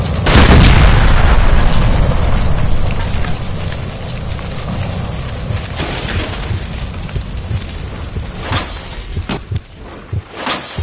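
A gas line by a stove explodes in L.A. Noire as a loud deep boom with a roaring rumble that slowly fades, followed by scattered debris clatter and sharp pops.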